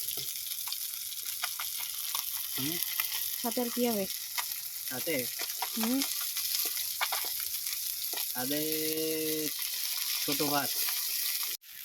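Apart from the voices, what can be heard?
bata fish frying in a pan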